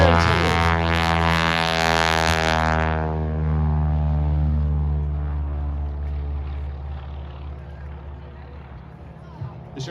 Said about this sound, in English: this is the Boeing-built Super Stearman